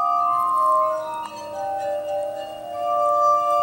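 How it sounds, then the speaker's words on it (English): A glass harmonica plays sustained, ringing glassy tones, several pure notes overlapping and shifting slowly, clear and alone with no voices. "There's something called a glass harmonica, and it sounds a little bit like this."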